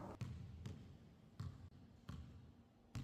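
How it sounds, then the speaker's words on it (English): A basketball is dribbled on a court in a steady rhythm of five or six dull thumps, each about half a second apart, heard faintly over a quiet background hum. "Dribbling, the act of continuously bouncing the ball on the court."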